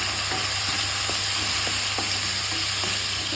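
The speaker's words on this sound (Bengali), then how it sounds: "মাছটাকে খুব ভালোভাবে একটু ভাজা করে নেব।" Pond fish seasoned with turmeric and salt frying in a pan, a loud, steady, close sizzle with faint stirring taps running throughout, no talking.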